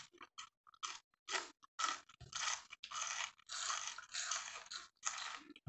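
Close, crisp crunching and chewing of crispy fried lambari fish, with irregular bites and crackly bursts in quick succession and no talking.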